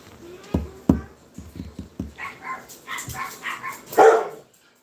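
A dog barks in a series of short, sharp woofs, then gives a few higher yips and whimpers, moderately close with no talking over it.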